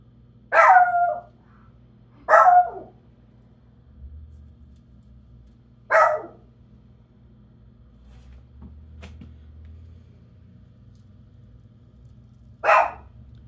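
Dog named Spice barking at an Amazon delivery driver, four or five sharp single barks spaced several seconds apart, moderately close in a quiet house.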